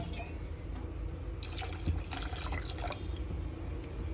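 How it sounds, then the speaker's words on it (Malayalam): Water is poured into a clay pot of Kerala-style masala fish curry, a close, soft splashing and trickling lasting about two seconds over quiet kitchen background. "കുറച്ചുകൂടി വെള്ളം നമ്മൾ ആഡ് ചെയ്ത് കൊടുക്കണം."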